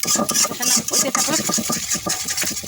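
Ground spices are stir-fried in a pan for potol korma (pointed gourd curry), with rapid, rhythmic scraping and stirring strokes over a soft sizzle, close and fairly loud.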